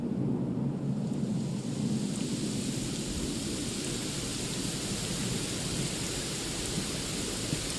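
Steady heavy rain hisses loudly in Dragon Quest XI S, with low rumbling thunder rolling continuously beneath it and no speech.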